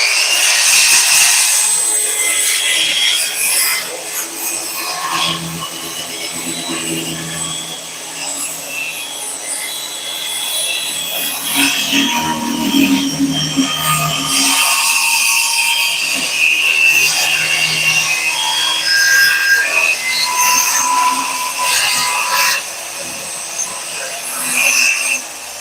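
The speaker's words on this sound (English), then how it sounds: "I'll have to jigsaw that down there." Wood being cut for a side table with a rasping, rubbing saw stroke that carries on almost continuously, close and fairly loud, shifting in tone as the cut progresses.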